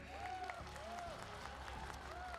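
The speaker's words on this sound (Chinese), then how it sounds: "掌声" Applause from the audience at the Tibet Autonomous Region 2023 New Year gala, a broad patter of clapping running under a prominent voice or music throughout.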